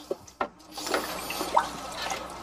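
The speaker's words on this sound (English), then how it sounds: "time to stir." Nutrient solution of fish fertilizer being stirred in water, with a couple of soft knocks followed by swishing, gurgling liquid sloshing and a few drips, fairly close and moderate in level, no talking.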